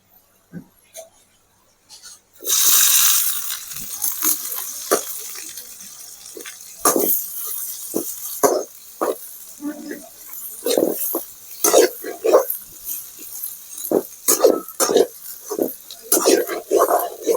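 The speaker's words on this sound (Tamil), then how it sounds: "எண்ணெய் ஊற்றிக்கிட்டு அதில் இந்த பட்டை கிராம்பு இலை போட்டுக்கலாம் இப்போ நம்ம வெங்காயம் போடலாம்" Onion dropped into hot oil already holding cinnamon, clove and bay leaf for a jackfruit koottu, bursting into a loud hiss, then crackling and sputtering in uneven spurts as it is moved around the pan.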